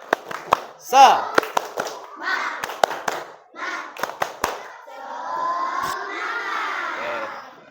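A class of schoolchildren performing tepuk semangat, a rhythmic clapping chant: sharp claps in patterned bursts mixed with shouted chanting voices, then a longer stretch of group shouting and cheering.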